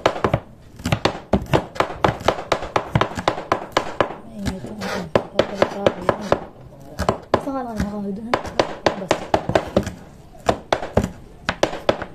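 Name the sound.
chopping kangkong (water spinach) with a knife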